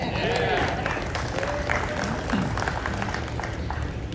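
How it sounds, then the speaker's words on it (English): Modest round of audience applause at a trade-show product presentation of new Sony laser projectors, scattered claps spread across the room under a murmur of voices and some speech. "Yes, you can applaud."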